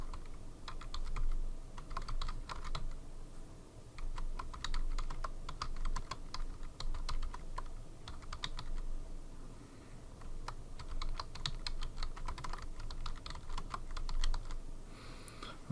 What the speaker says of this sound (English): I'm just going to type in the text that he has there.